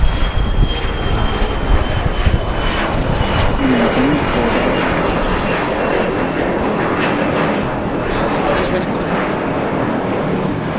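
A cargo jet taking off from Harrisburg Airport at night, its engine roar a steady, loud, broadband rumble that holds for the whole stretch.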